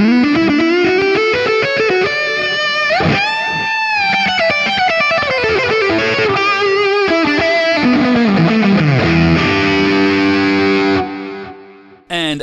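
Electric guitar played through a Fuzz Face fuzz model on an Axe-FX III gives thick, buzzy sustained notes and sliding bends, loud and alone, until the sound cuts off abruptly at the end.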